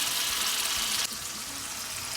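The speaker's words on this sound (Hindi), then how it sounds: "अभी इसको वॉश कर लूँगी और फिर ठंडे पानी से एक बार धो लूँगी" Water runs loudly from a tap over food being washed in a home kitchen, a dense hiss that shifts abruptly midway to a slightly softer, steady rinse of cold water.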